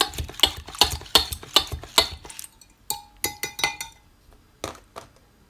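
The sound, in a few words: mixing eggs with peppers and onions for an omelette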